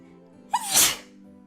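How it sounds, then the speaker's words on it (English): A single sneeze from a voiced character in the visual novel Hakuoki: Edo Blossoms, with a quick rising breath followed by a loud, breathy burst, alone over a quiet background tone. "I hope I didn't sneeze on you."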